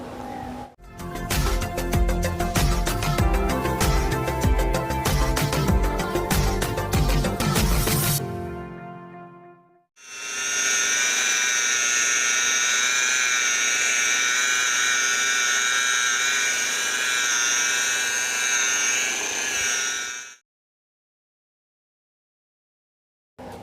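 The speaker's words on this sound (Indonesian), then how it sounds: "Lalu kita poles menggunakan mesin poles." Car headlight being polished with a polishing machine fitted with a sanding disc on its backing plate, a steady loud whining hum running for about ten seconds after an earlier burst of other sound, then stopping.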